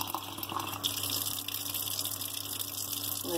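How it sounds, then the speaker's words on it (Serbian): A steady close stream of water pours over wheat grains in a glass jar, a continuous gushing flow lasting a few seconds with no talking. "prelijemo pšenicu vodom."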